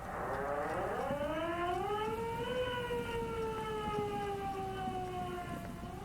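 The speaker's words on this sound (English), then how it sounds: "That does sound like it's a police siren," A long wailing siren in the video game Disco Elysium rises in pitch, then holds and slowly drifts down, a single steady tone with harmonics, fairly distant and heard alone.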